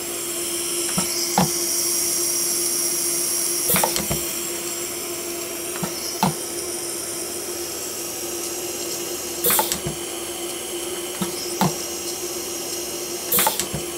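A Soyer PTS 2 stud welding machine runs its lift with a steady hum, broken by several sharp clicks and short mechanical clacks spaced irregularly through the stretch.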